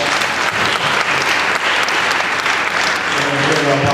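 A meeting audience applauds a roundtable panel on violence prevention, loud and close, with a thick wash of clapping that stays strong throughout and swells slightly toward the end.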